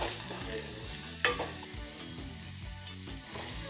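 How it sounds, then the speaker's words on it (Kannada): Onion sizzling and frying in a little oil in a pan for aloo masala, a steady close crackle with soft stirring scrapes and a brief clink near the middle, no voices. "ಈರುಳ್ಳಿ ಒಂದು ಸ್ವಲ್ಪ ಎಣ್ಣೆಲಿ ಫ್ರೈ ಆಗಬೇಕು."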